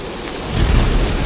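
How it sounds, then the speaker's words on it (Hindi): Heavy cartoon rainstorm with thunder, a steady close downpour hiss that swells in a low rumble partway through, no voices. "हे भगवान, यह तो बहुत जोर की बारिश आ गई।"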